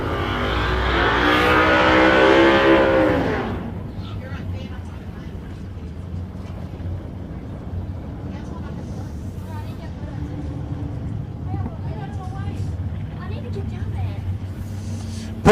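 A family station wagon roars in a drag race at a nostalgia racing event: a loud, harmonic engine howl for about three and a half seconds, then it drops away into distant track noise and crowd murmur.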